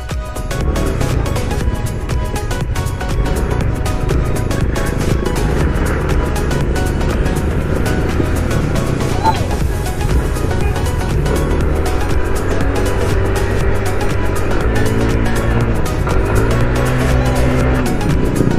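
Motorcycle engine fitted with a full JVT titanium CVT set and a modified V2 muffler, revving loudly and continuously with rising and falling pitch as it accelerates, close up.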